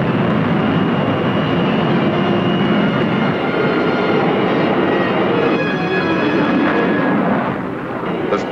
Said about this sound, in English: The Sage controller guides the interceptor, which begins to close in